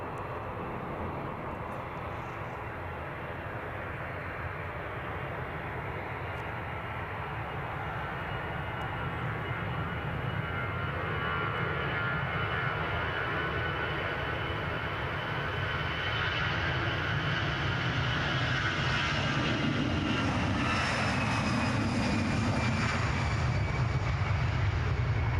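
An airplane taxis at Edinburgh airport, its engines a continuous broad roar that slowly grows louder and whinier as it nears, heard from a distance with no talking.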